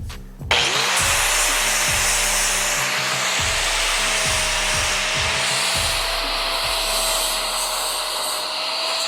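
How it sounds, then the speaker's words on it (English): A flap disc on an angle grinder grinds metal off a broken transmission bellhousing, spinning up with a whine into a loud, steady abrasive roar that continues almost unbroken for about eight seconds. "I think I'll put on a flap disc and just take the rest of that off"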